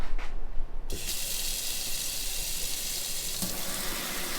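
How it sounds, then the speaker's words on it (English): A kitchen faucet gushes on into the sink with a steady, rushing stream of water, close and continuous after a few brief clatters. "We have a functioning sink in our kitchen."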